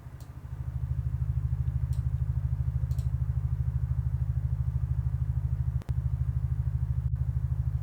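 Synthesized ring-modulation tone built in Pure Data, imitating a motorcycle running in a distant room: a steady, low, pulsing drone that holds evenly throughout, with a brief dropout near the end.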